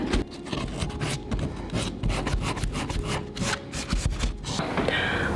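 A painted, leather-covered steamer trunk is distressed by hand, giving steady, close rasping and rubbing strokes in a quick repeated rhythm that runs almost without pause.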